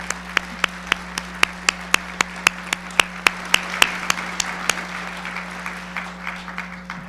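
Sparse, sharply spaced claps ring out at a high school MLK tribute event after a percussion ensemble's performance, a small scattering of individual hand claps in a steady rhythm over a constant low hum, thinning out toward the end.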